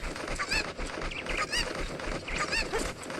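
Repeated squawking, clucking calls from a chicken in the 3D remake of Zelda Ocarina of Time Master Quest, several bursts over a busy, loud game backdrop with no talking.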